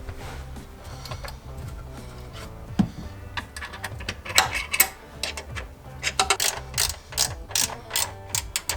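A wrench tightens the pump mount bolts of a Minn Kota Raptor unit on a Vexus AVX boat, giving bursts of quick, irregular ratcheting clicks and small metallic knocks over steady background music.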